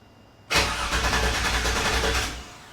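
A 1973 Toyota FJ40 engine cranking without fuel, the starter spinning it in one loud, continuous rhythmic churn of about two seconds that never catches, then stops.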